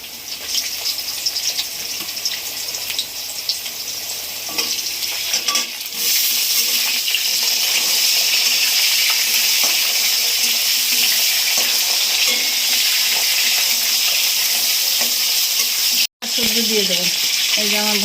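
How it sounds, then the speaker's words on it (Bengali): Bitter gourd and potato pieces frying in a pan with bay leaf, a loud continuous sizzle that surges about five seconds in as the gourd goes in, with occasional scraping as they are stirred. "এবার দেবো আমি উচ্ছেগুলো, আলু প্রায় ভাজা হয়ে গেছে।"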